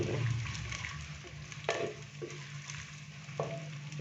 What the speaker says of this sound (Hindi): प्याज डालने के बाद अभी हम इसको अच्छे से मिक्स करेंगे।